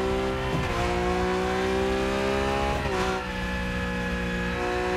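A Porsche 911 GT3 Cup at Hockenheimring in a racing simulator, with the engine climbing in pitch through the gears and dropping at each shift, loud and steady, while the tires are being warmed on the first lap.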